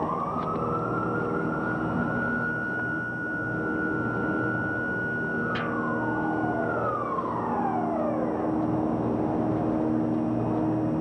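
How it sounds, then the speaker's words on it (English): A loud emergency siren holds a steady wail, then its pitch sweeps downward, over a constant roar of background noise. "Here's another siren. You may just barely be able to hear it."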